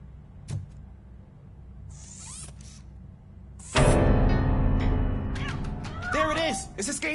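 A cat meows in the RoboCop video game, a couple of thin cries rising out of a sudden loud burst of noise, with speech present in the clip.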